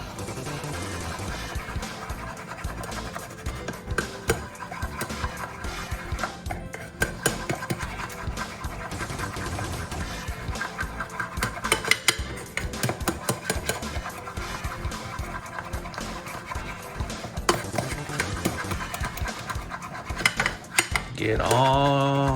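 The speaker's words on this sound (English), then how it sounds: "I'm gonna take my mixing spoon and I'm gonna mix it all together" A mixing spoon stirs steel cut oats and fruit in a bowl, with continuous scraping and rubbing clatter running for about twenty seconds at a steady, close level.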